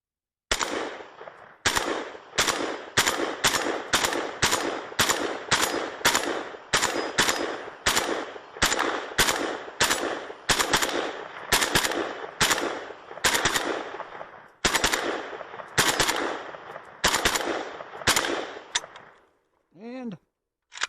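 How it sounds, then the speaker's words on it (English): Zastava ZPAP M70 and Springfield Armory Saint rifles fired at a steel target about 30 yards away, loud sharp shots in quick steady succession, with brief pauses between strings of fire. "Let's do some shooting."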